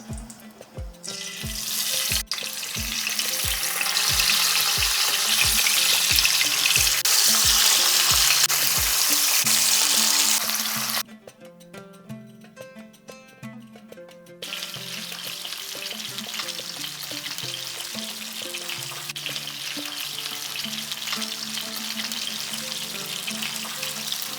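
Pabda fish are added to hot oil: loud, dense sizzling for about ten seconds, then the sound drops to a softer, steadier crackle.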